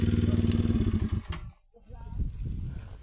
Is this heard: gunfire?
no